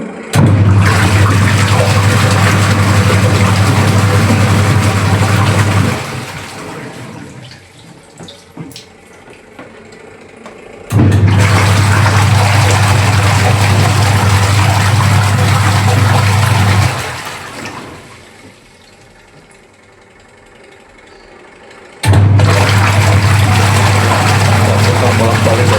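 An AQUA QW950XT twin-tub washing machine runs with water, its motor humming loudly alongside rushing, churning water in three long bursts separated by quieter pauses.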